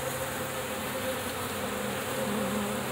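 Wasps and yellow jackets buzz in a steady, dense drone, several insects humming close together without pause, continuous and fairly loud with no voices.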